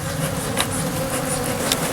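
Honeybees swarm around an opened hive during a removal in Milford, Texas, a dense, continuous close buzzing drone with no pauses.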